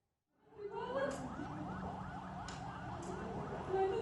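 An ambulance siren wails continuously during a chase through Menteng, Jakarta amid street protest unrest, a moderately distant warbling tone with steady rising and falling cycles and a faint background rumble.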